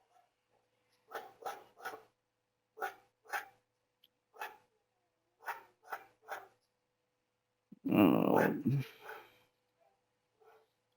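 A dog barks in short sharp bursts, about nine barks in uneven clusters, fairly close in a quiet room, followed by a brief burst of a man's speech near the end.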